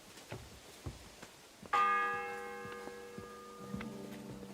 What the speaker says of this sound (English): It's the 8th bell.